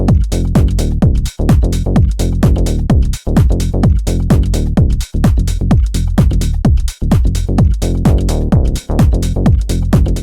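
House beat of kick and hats joined by a deep saw bass line with high resonance, producing a dense pulsing groove with plucky bass stabs that stays loud and driving for ten seconds, with no talk.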